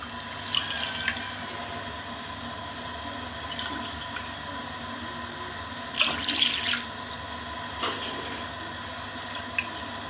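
Cold water pours steadily from a tap into a pot for Kashmiri chai, with a few brief splashes and clinks midway; quiet and close, no voices.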